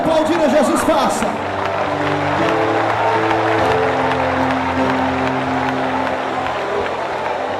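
Church congregation at a Portuguese-language evangelical service applauding and cheering together, a steady dense roar of clapping and voices sustained throughout over sustained music.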